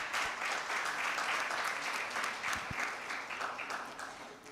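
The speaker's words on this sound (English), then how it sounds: "Big round of applause for Dr. Suraj." An audience gives a mentor a round of applause at an event on preventing and treating visual challenges. The clapping is soft and somewhat distant, even for several seconds, then gradually fades.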